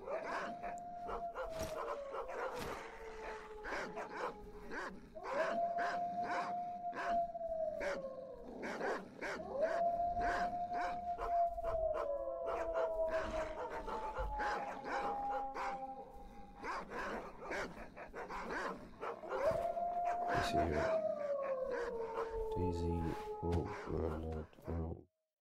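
Dogs in the STALKER video game howl and bark in long, repeated wailing calls mixed with yips and barks, loud and close, with a person talking now and then.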